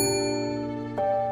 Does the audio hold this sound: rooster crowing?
no